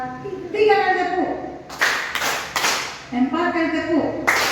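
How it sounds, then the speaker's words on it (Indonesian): Three sharp hand claps ring out in quick succession during a classroom warm-up exercise, with a voice speaking before and after them. "3 kali tepuk"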